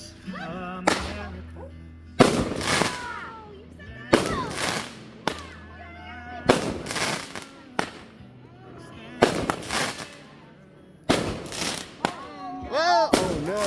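Fourth of July fireworks over Cranberry Lake, six loud booming bursts at uneven intervals, each followed by crackling, with people cheering and talking in between.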